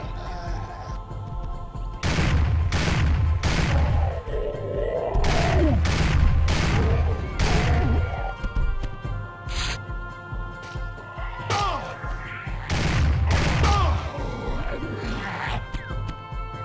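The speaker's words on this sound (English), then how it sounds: "Shotgun." A shotgun firing repeatedly in Turok 2: Seeds of Evil, with loud, punchy blasts in quick clusters, separated by short gaps filled with creature growls and roars.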